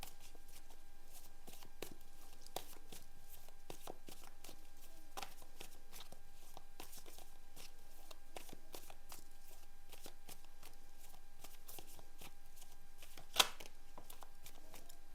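Tarot cards being shuffled in a quiet room, a long run of soft, irregular riffling flicks and taps near the listener, with one sharper snap near the end and no talking.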